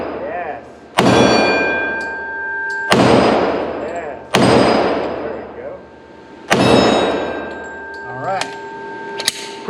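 Five loud, sharp reports from a Glock 35 Gen 3 pistol fired at a target, spaced irregularly over several seconds, each shot followed by a ringing decay, with no talking.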